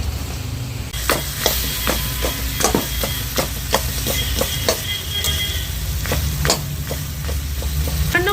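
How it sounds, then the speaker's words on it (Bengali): Fish heads fry in a thick spice masala in a pan, a loud close sizzle punctuated by regular scraping knocks of a spatula stirring and turning them. "এবার আমি মাথাগুলো মশলার মধ্যে দিয়ে দেবো"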